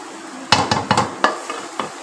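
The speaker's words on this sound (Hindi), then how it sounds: "अब ऐसे ही तो इसको थोड़ा सा और भून लेंगे, बिल्कुल घी निकल आएगा" Semolina halwa is roasted in ghee in a pan as a spoon stirs it. A handful of sharp scraping knocks sound over a low sizzle, close and clear, with no voices.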